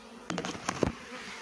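Honey bees (Apis) being captured and tipped into a hive box from a gourd bait trap give off a faint swarm buzz, broken by a few sharp knocks and thumps from the handling.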